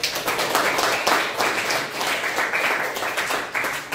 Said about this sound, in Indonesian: Kalau berhasil kasih tepuk tangan untuk.